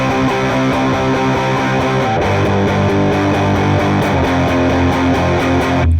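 Distorted electric guitar strums straightforward power chord shapes for the guitar part of a song, a loud, dense, sustained wall of overdriven chords cycling through changes with no talking.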